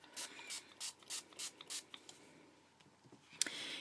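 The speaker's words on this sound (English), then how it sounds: "And to prime the new one, you want to spray it with water." Water spritzed from a spray bottle onto the foam of a Dylusions custom ink stamp pad: about six short, crisp hissing bursts in a steady rhythm, close and fairly loud, followed by quieter rubbing and a brief louder spray near the end.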